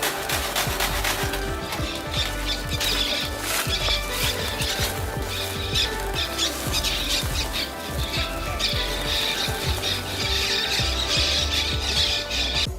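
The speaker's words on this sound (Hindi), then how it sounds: "पिंजरे की जालियां काट दी गई तो बाहर उड़ते हुए कैसे चहचहा रहे थे" A flock of freed caged birds chirps and squawks densely as the birds fly out of their cage. Rapid overlapping calls carry faint rustling and wing flutter, loud and close throughout.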